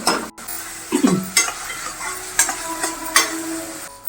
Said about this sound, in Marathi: थोडस मीठ घालते कांदा शिजण्यासाठी कांदा चांगला सर परतून घ्यायचा